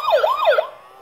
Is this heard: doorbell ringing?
no